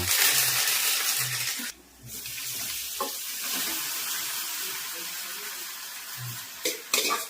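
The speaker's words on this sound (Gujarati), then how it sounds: "હવે આ તલ ને લીમડો વઘારવા નાખી" Oil crackles and sizzles loudly as sesame seeds and curry leaves hit the hot tempering oil for khatta dhokla, a bright spitting hiss with a few soft clinks.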